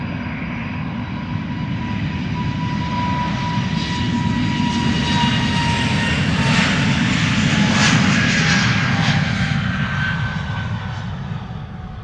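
Finnair airliner jet engines on the move at Amsterdam Schiphol Airport: a loud, continuous roar with a whining tone, swelling slightly as the aircraft passes close by and then easing off.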